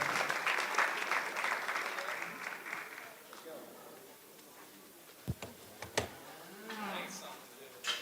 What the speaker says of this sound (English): give them the round of applause they more than deserve